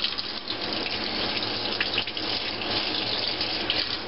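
Kitchen tap running steadily while a jar is rinsed under it, a close, loud, continuous splashing rush of water over about four seconds with no talking.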